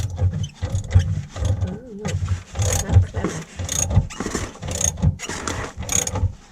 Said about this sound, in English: should start to winch itself up in a minute if I turn it the right way